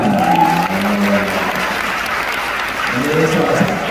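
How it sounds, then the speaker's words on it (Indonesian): An audience claps steadily throughout, a dense, continuous applause with a voice briefly audible over it near the start and again at the end. "Oke, tepuk tangan."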